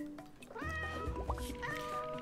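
A cat in the video game Roots of Pacha gives a couple of drawn-out meows, clear and close over a soft game background with faint dripping.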